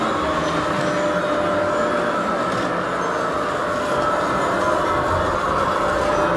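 A model train runs around a double-layer layout with a bridge, houses and a train station at the Christmas display of Castle Gardens garden centre in Sherborne, giving a steady, close rumble with no pauses and no talking.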